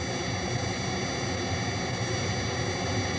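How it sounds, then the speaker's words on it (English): A steady synthesized jet roar, a dense, unbroken broadband rush with a hissing top end, holds at an even, loud level throughout. "Let's listen to how this jet noise can be altered when parts of it are filtered or removed."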